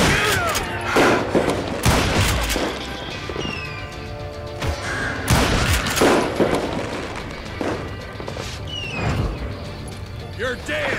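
Repeated gunshots in the Western shooter Call of Juarez: Gunslinger, loud cracks and booms spread irregularly across the scene with mechanical reload clicks in between, under a game soundtrack.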